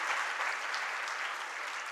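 An audience claps at a Jain monk's religious discourse, producing dense, even applause that continues unbroken throughout, moderately faint and with no voices.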